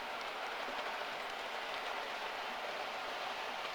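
A model railway train rolls past in a steady, even rumble that holds at a constant level for several seconds, with no talking.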